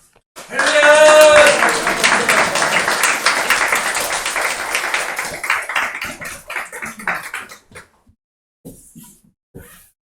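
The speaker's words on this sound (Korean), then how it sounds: "우리 박수와 할렐루야로 좀 맞으셨으면 좋겠습니다" A church congregation applauds loudly in a burst of dense clapping that gradually thins out and fades into scattered claps, with faint voices near the end.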